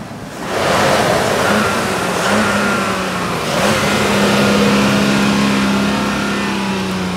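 A Jeep Liberty's engine held at a steady rev, producing a loud, sustained roar that runs for the whole stretch with a faint rising tone. A broad wash of noise sits underneath, and there is no talk.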